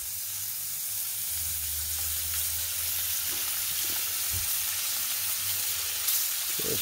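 Rabbit back-leg meat sizzling in butter in a pan, a steady close hiss and crackle with a low hum underneath and a few soft clinks.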